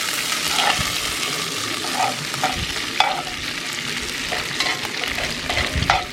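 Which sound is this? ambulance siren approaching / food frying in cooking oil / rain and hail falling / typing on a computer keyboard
food frying in cooking oil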